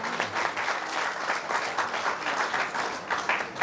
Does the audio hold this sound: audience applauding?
yes